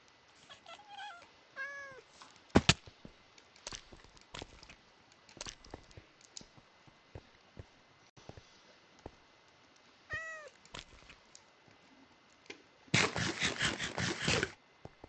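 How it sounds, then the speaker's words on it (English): A video game cat meows several times in short rising calls, scattered among clicks and soft game sounds, with a loud burst of rapid clattering noise near the end. "So, yes, I decided to tame a cat."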